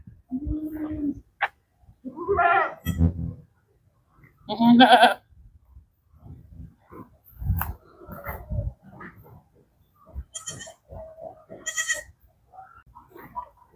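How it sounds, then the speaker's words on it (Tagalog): Goats on a farm bleat repeatedly, several loud, wavering calls spread across the scene at close range, with brief quiet gaps between them. "Ito yung kambing natin guys."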